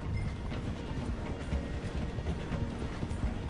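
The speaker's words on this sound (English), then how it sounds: "The train is slowing down to go through the station." Train slowing down as it passes through a station, a steady low rumble with a rapid rhythmic clatter of wheels.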